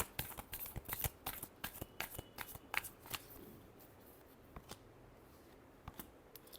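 Tarot cards are shuffled up close in a quick, dense run of crisp riffling snaps, followed by a few scattered, softer card taps as the shuffling winds down. The whole sequence is fairly quiet.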